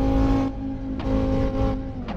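Audi RS3 Stage 3 in Assetto Corsa roars at very high speed, its engine droning loudly and steadily with brief shifts in pitch as gears change, with no talking.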